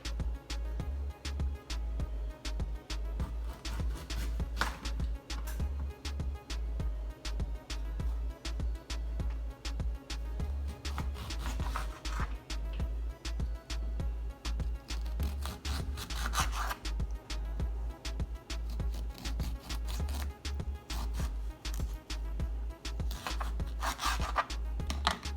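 Lemons are cut into pieces with a knife for a seafood boil with crab legs and shrimp: a long run of steady, rhythmic scraping strokes, close and fairly quiet, with no talking.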